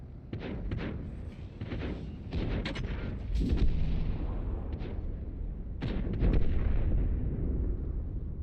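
Heavy blasts and booms hit a tank in the World of Tanks video game. Several close, loud impacts land one after another over a continuous rumbling battle bed.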